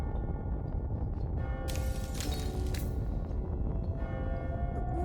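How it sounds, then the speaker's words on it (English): A bell tolls at midnight in the video game AI: The Somnium Files – nirvanA Initiative, a distant resonant ring over a dense, rumbling musical backdrop. "Is that the bell?"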